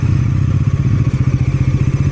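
A motorcycle engine idles loudly and close by in a steady, throbbing rhythm as the bikes pull in to park during a group ride from Darjeeling to the Bagrakote Loop Bridge, with no talking.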